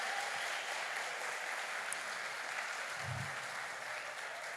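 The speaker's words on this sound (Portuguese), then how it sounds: "Aplauda esse Senhor maravilhoso" Congregation applause at a women's church conference, a steady dense wash of many hands clapping together, sustained at an even level throughout.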